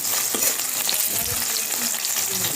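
Onions fry in a pan until browning for coconut rice, producing a dense continuous sizzle with soft stirring scrapes, close and alone without speech.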